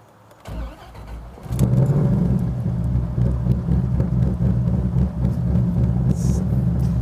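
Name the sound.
turbocharged Dodge Viper engine starting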